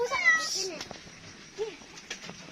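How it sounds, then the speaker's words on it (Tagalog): A cat meows a couple of times, short rising-and-falling cries over outdoor background noise, with people talking nearby. "Ayan ang pusa."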